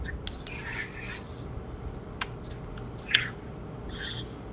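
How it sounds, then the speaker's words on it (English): Crickets chirping outdoors in Ohio at night, faint high trills and short chirps scattered over a dense, steady background hiss, with no voices. "How is there a cricket?"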